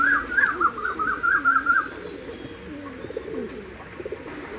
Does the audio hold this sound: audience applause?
no